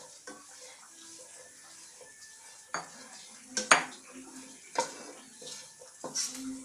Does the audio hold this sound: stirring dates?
yes